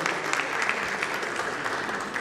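Steady, dense audience applause fills a forum hall as a moderator is welcomed to the stage, continuous and even throughout with no voices on top.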